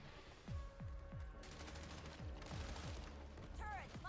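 Gunfire from a weapon in the co-op shooter video game Toxic Commando, a rapid series of punchy shots with descending tails, fairly loud over a busy game soundtrack.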